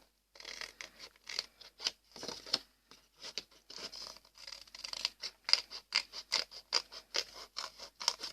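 Scissors cut around the outline of a paper bat Halloween decoration in a quick, irregular series of crisp close snips and paper rustles, with no one speaking.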